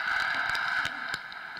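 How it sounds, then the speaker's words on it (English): Milk poured over a bowl of Rice Krispies sets off a dense, fine crackling and popping, close and steady, with a few sharper snaps scattered through the short stretch. "When you pour milk over them, it crackles"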